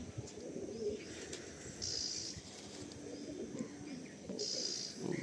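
Andhra pigeons in a loft at Sodepur coo softly in low, repeated rolling calls, with occasional brief higher chirps and faint rustling in a quiet indoor space.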